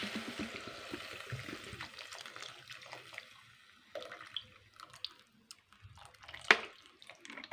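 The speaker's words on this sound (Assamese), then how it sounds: "ইয়াতে এতিয়া মই অকণমান পানী ঢালি দিম" A small amount of water poured into a cooking pan while preparing an Assamese egg and soybean dish, heard as soft, intermittent splashes and drips close by, fairly quiet with kitchen clatter.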